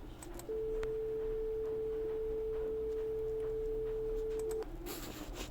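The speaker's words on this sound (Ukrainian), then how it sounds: "Я зараз вмикаю звук ля." A steady pure electronic tone at the note A holds at one pitch for about four seconds over faint background hiss, then cuts off.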